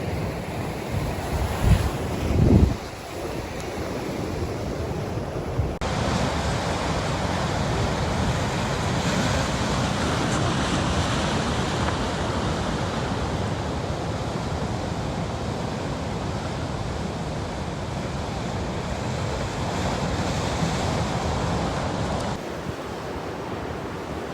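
Sea waves roll onto a wintry shore under strong wind, a continuous loud roar of surf mixed with gusty wind buffeting the microphone, with a few brief knocks near the start.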